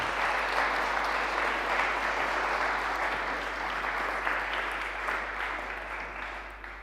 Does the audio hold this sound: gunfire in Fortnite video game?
no